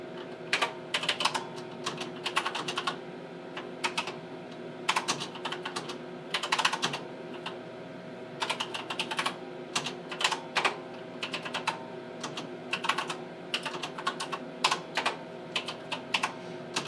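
Keys clatter on a Tektronix 4051 computer keyboard as a program is typed in, bursts of quick close clicks separated by short pauses over a steady low machine hum.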